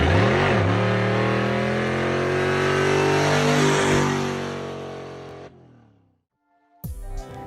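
A car with a Hemi V8 engine revs loudly and steadily for several seconds, its deep rumble rising and falling, then cuts off into near silence before a brief burst of revving returns.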